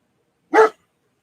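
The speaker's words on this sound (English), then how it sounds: "Sorry about the dog." A single sharp bark from a dog named Tank, close and loud, lasting about a quarter second in an otherwise quiet indoor room.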